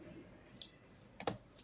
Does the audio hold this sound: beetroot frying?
no